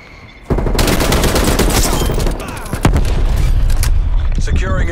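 Rapid gunfire from a TEC-9 in the first-person shooter Black Ops Cold War, loud sustained bursts after a quiet start with a brief lull, with talk over the shooting.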